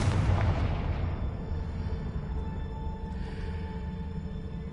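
A Confringo fire spell blast in the video game Hogwarts Legacy, heard as a loud, close burst at the start that fades into a long rumbling decay with a steady low roar beneath it.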